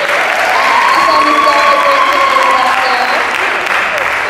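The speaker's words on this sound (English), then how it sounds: "give him another round of applause" A crowd applauds at a live talent-style showcase, steady loud clapping filling the whole stretch with some cheering mixed in and voices murmuring underneath.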